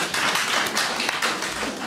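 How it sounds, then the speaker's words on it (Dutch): An audience applauding at the end of a talk, a dense, close wash of many hands clapping steadily without pause. "Dus applaus voor jezelf."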